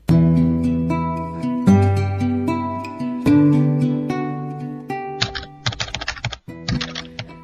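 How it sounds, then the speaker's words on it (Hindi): Quick, irregular clacking of typewriter keys over sustained musical tones, the tapping growing busier and sharper toward the end. "टाइपराइटर के बटन दबने की आवाज सुनाई दे रही थी।"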